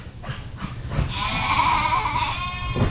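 Lambs in a barn pen on full feed call out, one long loud bleat swelling in the middle over softer bleats nearby, with no talking.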